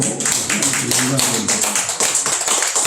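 A church congregation at a Sunday Thanksgiving service claps in quick, crisp bursts, with a voice speaking over the applause.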